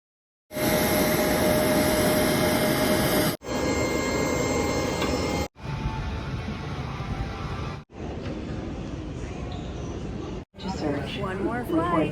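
A jet airliner in flight gives a steady cabin roar of engines, heard in several separate segments of continuous broadband hum, with someone talking over one part.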